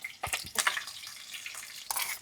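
Hot oil spatters as green chillies and curry leaves go into a pan, giving scattered crackling bursts and sharp pops over about two seconds, fairly close.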